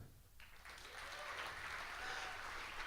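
An audience at a Planet Texas 2050 talk in Austin breaks into clapping that starts abruptly and swells into a broad, sustained round, fairly distant and roomy.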